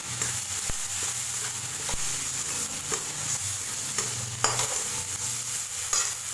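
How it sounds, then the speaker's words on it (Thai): Curry paste with ground coriander being stir-fried in a pan for a fried gourd kofta curry, with a steady sizzle and repeated scraping knocks of a spatula, close and continuous. "ผัดต่อค่ะ"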